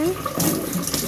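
Running tap water splashes loudly while food such as coriander, chillies and onions is washed clean, a short steady gush with a voice speaking over it.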